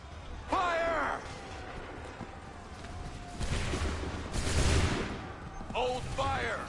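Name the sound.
musket volley fire, from video game Assassin's Creed 3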